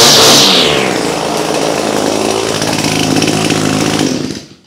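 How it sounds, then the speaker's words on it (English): An Echo string trimmer's small engine runs steadily with the trimmer head spinning: a loud, close, continuous buzzing whine that holds evenly for several seconds before cutting off at the end. "Let it warm up a minute. Spin a minute or so. Make sure the trimmer head spins."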